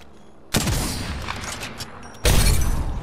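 Two loud, close sniper rifle shots ring out in a video game match, the first near the start and the second about two seconds later, each followed by a long rumbling echo tail.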